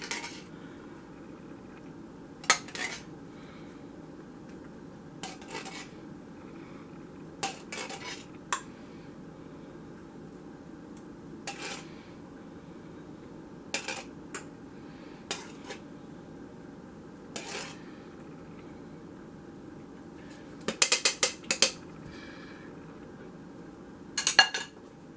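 A spoon scrapes and clinks against a baking dish as leftover sauce is ladled over stuffed cabbage. The taps are sporadic and soft, with a quicker cluster of clinks near the end, over a quiet kitchen hum.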